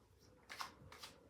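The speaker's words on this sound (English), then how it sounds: "I'm going to start shuffling" A deck of playing cards being shuffled by hand in two quick riffling bursts, soft and close, with a quiet room between them.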